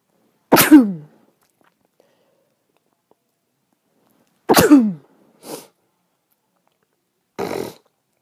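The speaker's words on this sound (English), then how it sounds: "I need to sneeze." Two loud, sharp sneezes about four seconds apart in a quiet room, each a sudden explosive burst, followed by a couple of softer breathy sniffs or exhales.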